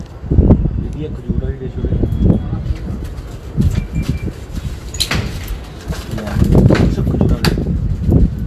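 Pigeons coo softly in a pigeon-keeping setting, their low murmurs mixed with voices talking nearby and some shuffling and clattering.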